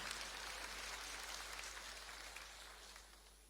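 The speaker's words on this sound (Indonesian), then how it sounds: "tepuk tangan." Congregation applause during a church sermon, faint and steady, a distant wash of clapping that tapers slightly toward the end.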